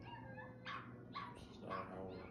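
A beagle barks in a few short, quick yips mixed with thin whimpers, close by and moderately quiet, over a low background hum.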